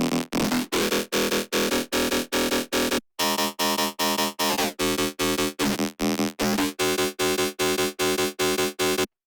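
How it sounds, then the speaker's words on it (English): A pure synthesizer sine-wave tone repeating in short, evenly spaced pulses, with a brief gap partway through, steady and alone without any voices. "let's do sine wave"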